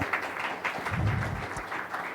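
An audience at a tech startup event's opening claps for a title sponsor with moderate, uneven applause, loudest in the middle before easing off.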